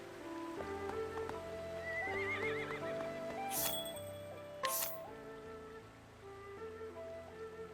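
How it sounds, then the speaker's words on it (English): Horse neighing within the video game Octopath Traveler 2, two bright whinnies rising over steady game music with soft hoof clip-clops and light rain ambience, fairly close and clear. "Horses are gentle and sensitive animals."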